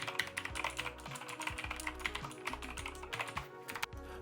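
Rapid typing on a Razer gaming keyboard in a quick sound test, a dense stream of close, crisp key clicks and thocks with a steady rhythm and no talking.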